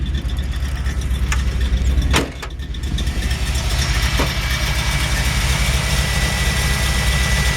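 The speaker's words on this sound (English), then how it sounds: "This engine runs awesome." A 1926 Ford Model T hot rod engine idles steadily with a low, even rumble, briefly dipping for a moment before settling back into its constant hum.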